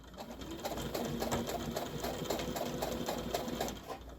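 A home sewing machine runs a straight stitch along a quarter-inch seam on fabric for a hanging storage pod, giving a steady, close, rapid mechanical whir with a rhythmic needle pulse throughout and no talking.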